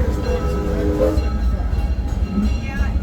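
The Six Flags Railroad amusement park train at Six Flags Over Texas rumbles along the rails with a steady low roar and clatter, close and loud, while a voice speaks over it.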